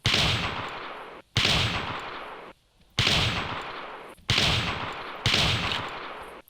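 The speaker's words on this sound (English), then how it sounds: "I want to try a shot at this range and see." Rifle gunshots in the hunting game Carnivores Triassic, five loud booming shots spaced roughly a second or more apart, each with a long decaying reverberant tail, close and alone with no talking.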